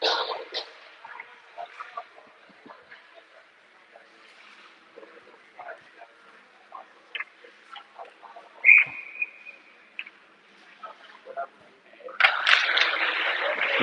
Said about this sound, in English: freezes it, and gets the whistle.